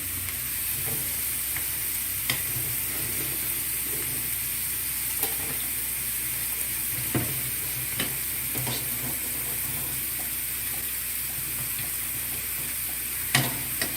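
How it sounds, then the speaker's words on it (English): Onion fries in a pan of oil, a continuous bright hiss at steady loudness broken by several sharp utensil knocks and scrapes, with no talking. "Now our onion is well fried"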